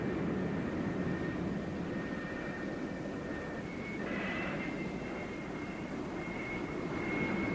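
Steady, loud roar of an F-4B Phantom II jet engine idling on a USS Forrestal catapult, a continuous broadband rumble with a high whine that rises briefly midway, no talk.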